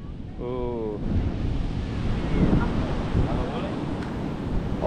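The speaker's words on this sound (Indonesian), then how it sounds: "Ombaknya gede." Big ocean waves break on a beach at Ujung Genteng, giving a continuous roar with heavy wind buffeting the microphone. A voice speaks briefly near the start.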